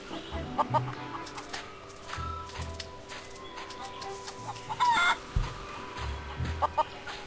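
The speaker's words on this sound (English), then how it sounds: "Chickens are starting to freak me out. There's so many of them." Chickens in The Curse of Monkey Island cluck in short, scattered bursts over a soft background hum, several birds close by at moderate volume.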